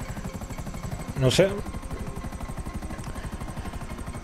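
A helicopter in GTA V flies with a rapid, steady rotor chop throughout, with a short burst of other game noise partway through and someone speaking briefly over it.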